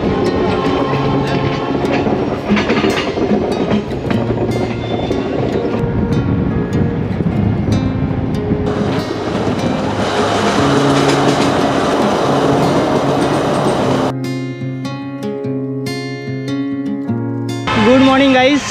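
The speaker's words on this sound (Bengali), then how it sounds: "ট্রেনটা এবার সেবক হয়ে দুদিকে জঙ্গলের মাঝখান দিয়ে আলিপুর যাওয়ার রুটটা নেবে" A passenger train runs through forest near Sevoke, its steady rumble and clatter continuous and fairly loud, with wheel-on-rail clacking and some tonal squeal later on.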